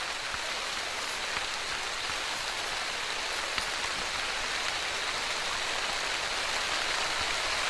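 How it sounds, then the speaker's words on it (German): Steady, even rain hiss from theHunter: Call of the Wild, a dense wash of falling drops across the whole clip with no talking. "Ich glaube, den Regen muss ich noch mal was leiser stellen hier."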